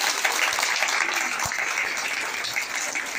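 Continuous applause from a large crowd at a school Women's Day celebration in India, a dense steady patter of many hands clapping at once without a break.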